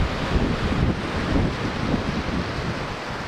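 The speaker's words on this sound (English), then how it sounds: "We are here on a very windy day." Strong wind on a red-flag fire-weather day outdoors, a continuous loud rushing buffet with low rumbling gusts across the whole stretch and no voices.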